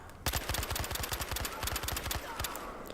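An MG36 machine gun fires in the multiplayer shooter Battlefield Hardline, a loud, fast, sustained automatic burst of evenly spaced shots lasting about two seconds, then breaking off.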